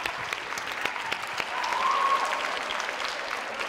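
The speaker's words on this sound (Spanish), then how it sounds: "yo solamente puedo pedir un súper aplauso para ellas" Steady audience applause at a youth-program music performance on La Palma in the Canary Islands, a dense even patter of many hands that swells briefly midway, with no talking over it.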